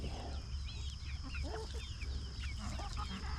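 A flock of chickens cluck and chatter softly while eating breakfast, a busy low-level mix of overlapping clucks and murmurs at a moderate distance over steady background hum.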